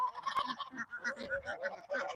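Farm ducks honk and call in a lively, rapid stream of nasal quacks at moderate distance, several birds overlapping with no talking.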